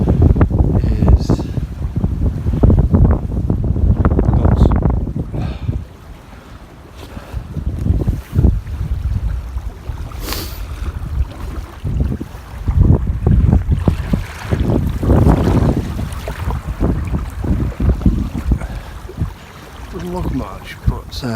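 Steady wind rushes and buffets the microphone over open water while carp fishing, with gusts swelling and easing throughout and occasional bumps and low rumbles.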